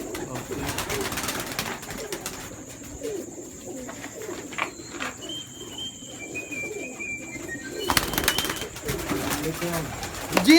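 Pigeons of several breeds coo in soft, low, repeated throaty calls amid bird chirps and a few wing flaps, with occasional handling noises close by.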